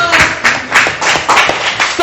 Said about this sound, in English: So big round of applause for Bob.